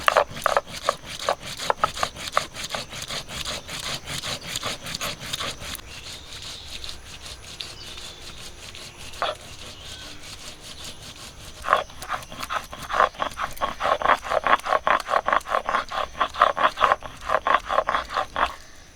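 Garlic, ginger and cumin are ground by hand into a spice paste for a fish curry, heard as rhythmic back-and-forth scraping strokes that are close and fairly loud, briefly slowing before quickening again.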